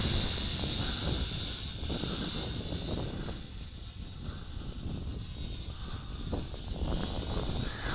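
An HJ818 hexacopter drone built of plastic and metal lifts off and flies, giving a steady, close whirring buzz of its propellers with wind rumble on the microphone and no speech.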